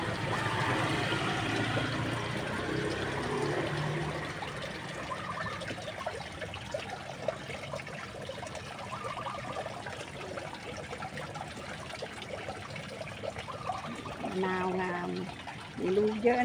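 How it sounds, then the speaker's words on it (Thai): Water trickles and splashes down a small garden waterfall in the morning. It makes a steady, soft, rushing wash throughout, with someone talking over it for much of the time. "ชมภาพสวยงามนะคะน้ำตกน้อยนะคะ"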